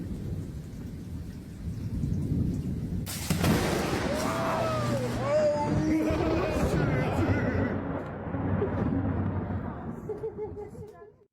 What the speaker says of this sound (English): It's just wicked thunder and lightning.